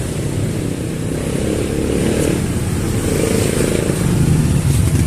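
A motorcycle engine with weak pull and a suspected ignition coil or camshaft problem, revving in a loud, close, rough drone that swells gently a few times without strong acceleration.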